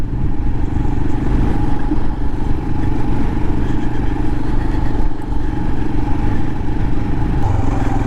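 A 2022 Royal Enfield Himalayan motorcycle rides along with a steady, close engine drone and road rumble that stay level throughout, without talk.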